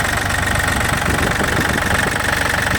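A liquid-cooled three-cylinder diesel mini tractor engine idles steadily nearby with a rough, knocking clatter and constant vibrating drone, loud and unbroken.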